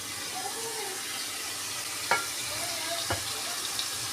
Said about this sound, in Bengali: মশলার তেল ছেড়ে দিয়েছে আর খুব সুন্দর ভাজা হয়ে গেছে